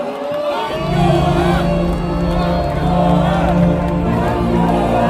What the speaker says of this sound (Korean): 당원 여러분 큰 박수로 맞아주시기 바랍니다